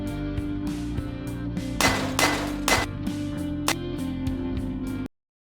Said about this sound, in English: Why did you attack my supercomputer with a hammer?